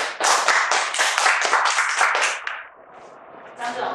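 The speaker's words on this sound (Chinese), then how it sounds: "我们大家拍拍手" An audience at a lecture on Chinese medicine for livestock disease claps in quick, loud rhythmic bursts that fade out after a few seconds, followed by a short murmur.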